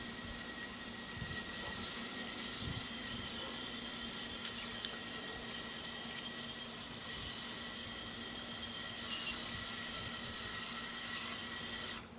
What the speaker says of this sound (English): Now we're rinsing off our cast.